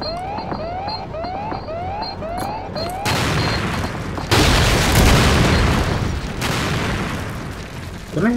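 Dynamite goes off in Return to Castle Wolfenstein, rising siren-like warning whoops giving way to a heavy explosion and a second louder blast with long rumbling debris.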